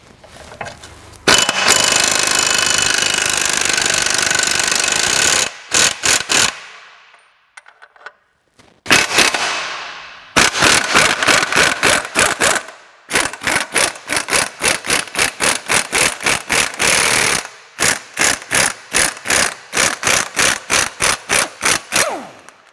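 A power tool, most likely an impact wrench, loosens the nut on the hub control arm bolt of a BMW rear suspension: long sustained loud bursts, a brief pause, then a rapid series of short hammering pulses, with no talking.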